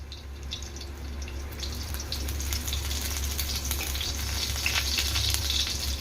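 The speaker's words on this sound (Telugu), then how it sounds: "ఇందులో నేను వెల్లుల్లి రెబ్బలు ఈ విధంగా సన్నగా కట్ చేసి వేసుకున్నాను." Thinly sliced garlic frying in oil for vegetable fried rice, a continuous close sizzle and crackle under a steady low hum, growing a little louder and busier toward the end.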